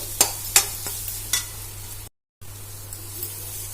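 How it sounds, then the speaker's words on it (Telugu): A crumbly urad dal flour mixture fries in a pan for masala poori, with a few sharp spatula scrapes and knocks over a low hiss, then a short cut to silence before the quiet frying resumes. "మినపప్పు మిశ్రమం అయితే మనకి ఇట్లా పొడి పొడి లాగా అయితే ఇట్లా వేయించుకోవాలన్నమాట"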